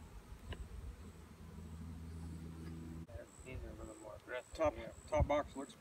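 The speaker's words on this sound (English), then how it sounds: "there's a lot of bees down there" A low, steady hum of many honey bees in a hive drones for a few seconds during a hive inspection, then brief murmurs and soft handling noises take over near the end.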